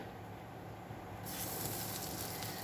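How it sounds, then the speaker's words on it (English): Vegetables saute in melting butter in a karai, a soft sizzling hiss that swells louder partway through, close and steady with no talk. "Now I'm going to saute them in butter."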